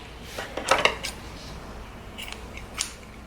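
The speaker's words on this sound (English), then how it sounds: "And then trimming any extra string that we don't need." Scissors snip off the spare string on a handmade sun-shaped earring or keychain, a few quick, crisp close-up cuts in a quiet room, with no talking.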